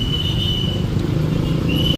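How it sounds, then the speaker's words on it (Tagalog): Inside a jeepney on the move, a steady low engine rumble mixed with road noise and a faint high whine, ending abruptly. "Nasakay lang kami ng jeep."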